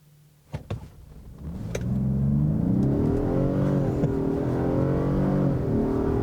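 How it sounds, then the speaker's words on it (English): A 2021 Ford F-150 PowerBoost hybrid pickup with an EcoBoost V6 pulls away from a stop. A couple of sharp clicks come first, then the engine swells into a steady, strong acceleration roar that holds to the end. "It has a pretty typical, you know, EcoBoost V6 noise when it gets going"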